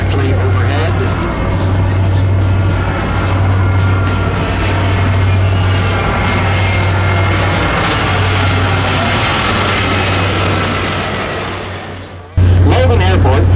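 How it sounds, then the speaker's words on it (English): A fixed-wing airplane passes directly overhead near Logan Airport in Boston, a loud, sustained roar with a deep engine rumble that swells and holds for about twelve seconds before cutting off abruptly. "an airplane coming directly overhead"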